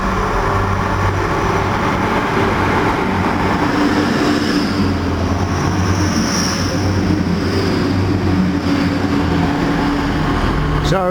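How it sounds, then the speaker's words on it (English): Class 180 train passing Tilehurst station: a continuous loud rumbling roar of the passing train with wheel and engine drone, heard close, and a brief high squeal near the end. "this is a 180 coming"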